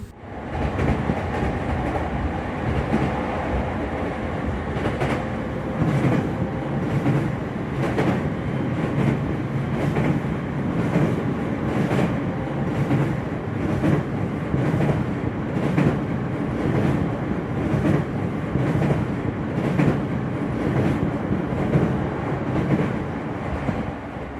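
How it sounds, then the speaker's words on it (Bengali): A passenger train pulls into Borgo Panigale station near Bologna, its steady loud rumble and rhythmic clickety-clack of wheels over rail joints continuing throughout, with no talk over it. "এই তো ট্রেনটি চলে এসেছি স্টেশনে"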